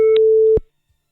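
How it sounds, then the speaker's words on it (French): Telephone busy signal: a steady tone broken by a brief gap, loud and close, cut off after about half a second and followed by silence. "Vous entendez ce bruit? Un téléphone."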